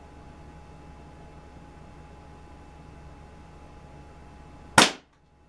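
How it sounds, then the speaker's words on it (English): A single sharp air gun shot cracks out near the end, loud and close, after a stretch of quiet background hiss. The gun is a PPKS Vigilante, Dan Wesson 6-inch or Crosman C41, fired at a target. "I'll put a few more shots in"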